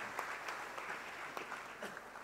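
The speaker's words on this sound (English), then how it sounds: "Please welcome him with a round of applause." Audience applause at the FICCI Frames 2016 inauguration ceremony, a fairly faint, steady patter of many hands clapping in a hall, with a few sharper claps standing out and no talk.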